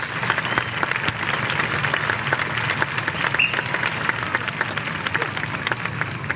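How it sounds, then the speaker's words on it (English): Audience applause at a 1980 saltwater circus dolphin show at Kings Island, a crowd clapping loudly and continuously in the open air as the dolphins take their bows, sustained dense claps throughout. "how about we give one last round of applause as they take a few bows"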